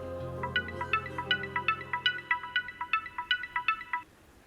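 A phone ringtone plays a repeating electronic melody of bright, evenly spaced notes for about four seconds, fairly close, then stops; no one speaks over it.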